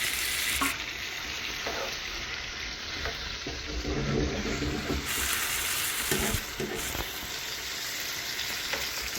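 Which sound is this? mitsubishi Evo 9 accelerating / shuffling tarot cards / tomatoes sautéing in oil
tomatoes sautéing in oil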